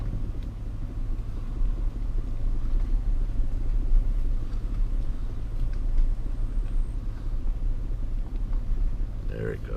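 Car driving slowly through a lakeside park, a steady low engine rumble and road noise heard continuously from inside, with faint murmuring voices underneath.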